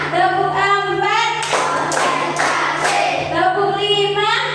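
Children in a group clap together in a counted pattern, a few sharp bursts of massed clapping between stretches of an adult voice chanting the count over a steady electrical hum.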